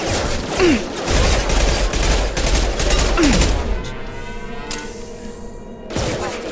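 Heavy bursts of gunfire in a Mass Effect Legendary Edition firefight, loud and close, with overlapping shots and thuds that thin out into a quieter stretch before another burst at the end.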